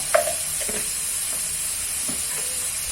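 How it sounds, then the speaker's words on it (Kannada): Prawns fry in a pan with turmeric powder, giving a steady, close sizzle with a constant hiss. A few scraping stirs sound near the start. "ಪ್ರಾನ್ಸ್ ಫಿಶನ್ನು ಸೇರಿಸ್ಕೊಂಡ ನಂತರ ಫಸ್ಟ್ ಕ್ಲಾಸ್ ಆಗಿ ಹುರಿಬೇಕು"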